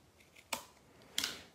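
Two crisp scissor snips, evenly spaced and close up, trimming excess pieces of paper card while making a floral sympathy card; each cut is short and sharp against a quiet room.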